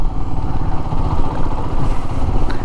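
A Benelli 600 sports motorcycle engine running close by, a loud, steady throbbing rumble with slight fluctuations throughout and no talking.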